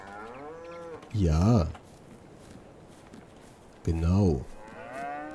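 Two long, loud cow moos from Farming Simulator 22 livestock, each about half a second, separated by a quieter stretch, with background ambience and a person talking briefly.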